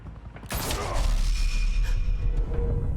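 Gunfire erupts in a Batman Telltale Series game scene, a sudden loud burst followed by sustained rattling blasts and ringing debris.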